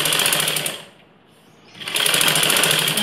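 A sewing machine runs fast and loud while stitching a ladies' blouse, pausing briefly in the middle before the dense, buzzing stitch noise resumes at full speed.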